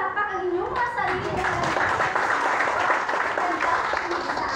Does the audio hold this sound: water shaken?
no